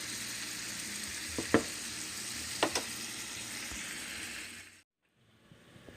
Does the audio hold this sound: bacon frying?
yes